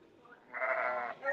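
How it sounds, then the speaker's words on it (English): A lamb at a sheep-shearing session gives a single clear bleat lasting about half a second, fairly close and standing out against quiet barn background. "So that's a lamb."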